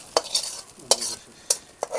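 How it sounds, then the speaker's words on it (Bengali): Bele fish are shallow-fried a few at a time in a hot kadai, with sharp intermittent spatula scrapes and clinks over a soft, low sizzle of oil. "আমি অল্প অল্প করে সব মাছ ভেজে নিলাম।"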